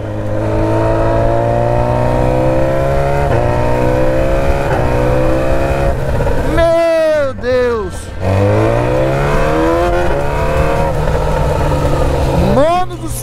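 Loud, close BMW S1000 motorcycle engine holds a steady drone, then revs sharply upward in quick bursts with gear-change dips, accelerating along a highway; a voice is heard briefly over it.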